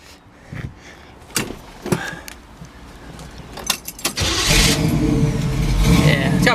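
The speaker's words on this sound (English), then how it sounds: "Go ahead and fire this bad boy up for you." A 1969 Chevrolet Camaro SS with brand new Flowmaster dual exhaust is handled with a few clicks and knocks before the engine cranks and catches, settling into a loud, full, rumbling idle through the final seconds.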